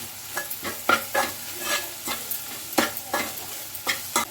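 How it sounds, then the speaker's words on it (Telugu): A spoon stirs coriander powder into an okra and tamarind stew in a pot, giving repeated short scraping strokes with a soft sizzle underneath, close and fairly quiet, with no talk. "ఇప్పుడైతే చక్కగా కలిపిస్తా."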